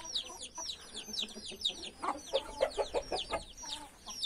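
A black carijó rooster clucks repeatedly in short, uneven bursts, close by, with other bird calls chirping in the background.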